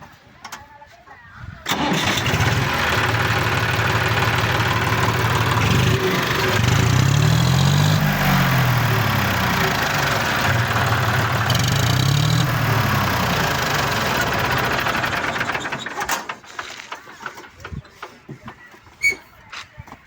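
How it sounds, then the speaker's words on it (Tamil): A John Deere 5042 tractor engine cranks and catches after a short pause, then runs loud and close with a steady diesel idle and some revving swells before cutting off, leaving quiet. "வண்டி ஸ்டார்ட் பண்ணி பாருங்க இப்போ வண்டி பார்த்தீங்கன்னா ஸ்டார்ட் பண்ணி காட்டுறேன் பாருங்கள்"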